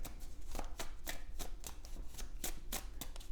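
Tarot cards are shuffled close by, a steady rhythm of quick papery slaps and riffles repeating about every third of a second over a faint background hiss.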